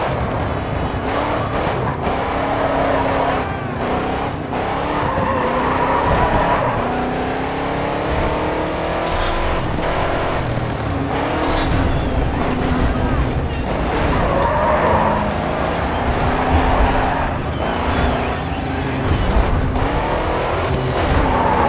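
Race cars roar through the grid-shaped streets of Chicago in the racing video game Grid 2, engines droning continuously with whining gear shifts and occasional tire squeals through tight 90-degree corners, loud and steady throughout.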